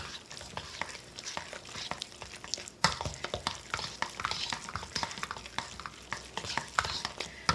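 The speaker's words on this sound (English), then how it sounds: "We're going to mix it around and see where we're at before we add more." Milk being stirred into twice-baked potato filling, repeated close scraping and squelching strokes of a utensil through a thick mash in a steady back-and-forth rhythm, no voices.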